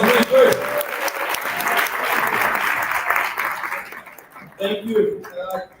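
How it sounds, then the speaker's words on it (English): Applause from the audience at a business workshop in Soweto, several seconds of moderately loud clapping from a room of people that thins out toward the end, with a voice speaking over it at the start and again near the close. "Let's give him another round of applause."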